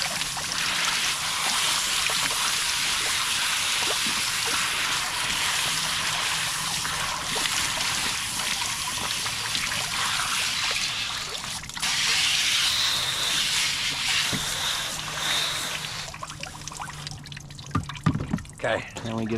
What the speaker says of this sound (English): So when I got water going in there too, I like to get a hand right in there and really work my fingers around